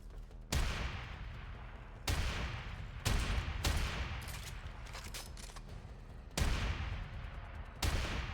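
Repeated gunfire at targets in the video game Warframe, with loud, dense bursts striking every second or so over a continuous rumbling backdrop. No voices are heard.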